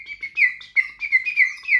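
A water-filled bird whistle played in a run of warbling, trilling chirps that mimic birdsong, bright and close, with short pulsing phrases and no voices.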